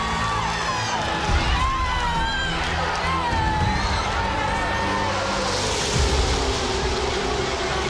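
A roaring crowd of 170,000 at a NASCAR race, a dense continuous wash of cheering with swells near the second and sixth seconds, and a race commentator's voice running over it.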